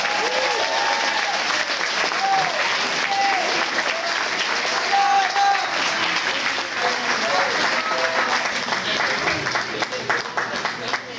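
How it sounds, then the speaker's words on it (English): A banquet audience at a soccer team awards night claps in steady, sustained applause that fills the room, with a few voices mixed in. "so can we give him a round of applause?"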